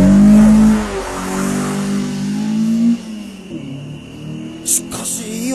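A naturally aspirated car engine revs hard at full throttle, a loud rising roar that drops back and climbs again, with brief high squeals near the end.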